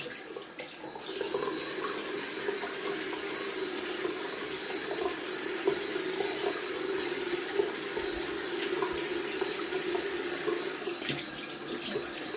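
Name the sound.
cold water running from tap for shaving rinse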